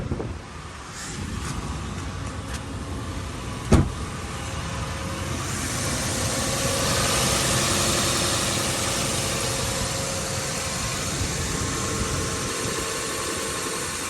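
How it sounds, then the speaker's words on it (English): A steady, low idle of a 1998-2007 Lexus LX470 2UZ-FE V8 warming up hums continuously, with a brief sharp click early on and a broadband rush rising midway from the heater fan on high. "Let's wait for the car to warm up."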